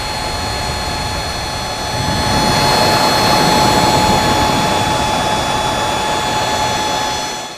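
Cooling fan of an Inverex Veron series 1.2 kW solar inverter, a close, steady whirring hum with sustained whine tones that swells louder after a couple of seconds, then holds constant and fades slightly at the end.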